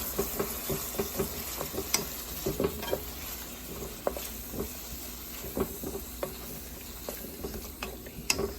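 Onion and garlic sizzle in a pot for Louisiana-style red beans, a steady frying hiss broken by frequent scraping stirs and light utensil knocks against the pot, close and moderately loud, with no talk.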